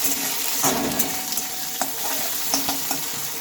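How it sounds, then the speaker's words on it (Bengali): Fried onion and chopped tomato are stirred in a pan for a potato and cauliflower dish, with a spoon scraping and clicking at an uneven pace over a steady low sizzle. "টমেটো কুচিটা দিয়ে নিলাম আর ভালোভাবে আবারও আমি নেড়ে চেড়ে নিচ্ছি"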